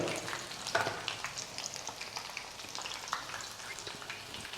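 Red chilli pakodas crackle and sizzle steadily in hot oil, a close, continuous frying hiss with scattered sharp pops throughout.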